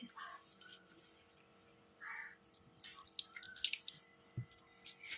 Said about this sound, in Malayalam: നന്നായി കഴുകിയെടുക്കുകയാണ്